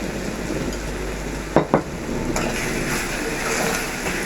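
Sugar sambol mixture stirred in a pan on low heat, a steady soft scraping and sizzling with a couple of sharp utensil taps against the pan midway.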